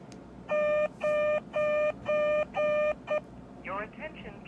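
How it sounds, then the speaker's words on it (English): Emergency Alert System attention tone partly captured from radio on a reader device: six steady two-tone beeps in a regular on-off rhythm over a hissy background, then a short warbling burst. "there's a partial alert capture from earlier today"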